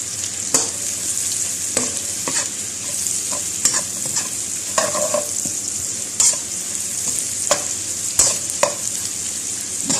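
Pork belly and lemongrass stir-fry in hot oil, giving a loud, continuous sizzle with repeated scraping stirs of the spatula throughout.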